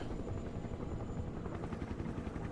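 A loud, steady rotor thump and engine drone from an AH-1 Cobra attack helicopter in the Broken Arrow multiplayer war game, filling the whole stretch with continuous low churning and no speech.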